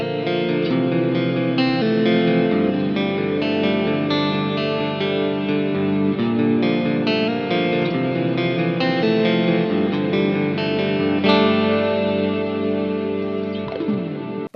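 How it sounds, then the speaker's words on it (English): Clean electric guitar on the low-gain channel of an ENGL Fireball impulse response, played on a split neck pickup with delay and reverb from a Fractal FM3, rings as continuous shimmering, layered sustained notes and chords with long ambient tails, steady and unbroken throughout. "Switching over to the low gain channel of the Fireball IR now, I'll switch to the neck pickup split for this and we'll do some nice ambient clean tones"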